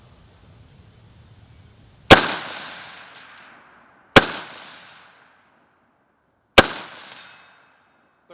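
Three sharp gunshots from a PSAK GF3 12.5-inch pistol fired at 12-inch steel plates about 150 yards out, evenly spaced roughly two seconds apart, each a loud crack trailing into a ringing decay.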